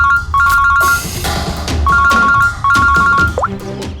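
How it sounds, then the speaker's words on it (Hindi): A telephone rings in repeated electronic double bursts with short gaps between them, loud and close, over a busy background with thuds. "फोन उठाओ दया, फोन उठाओ"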